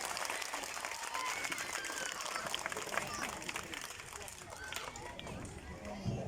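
Steady applause from an audience in Mumbai fills the space, dense and continuous, with a few voices mixed in throughout.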